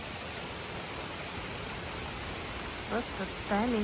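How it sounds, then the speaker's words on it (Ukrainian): Steady rain falls during a summer storm as a dense, even hiss at moderate level, with brief speech near the end. "Пішов дощ, загриміло і все."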